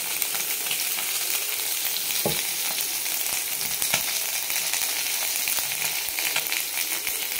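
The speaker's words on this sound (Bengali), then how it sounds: "এখন দিয়ে দেবো এই যে গোটা জিরে।" Whole cumin seeds fry in a little oil after fish has been fried in the same pan, giving a steady close sizzle with a few sharp crackles and no voices.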